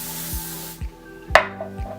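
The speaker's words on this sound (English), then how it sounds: "spray it as much as you want with the hairspray" Hairspray hisses from an aerosol can onto hair in a steady spray that cuts off partway through, followed by faint rustling and a sharp click, with no talk.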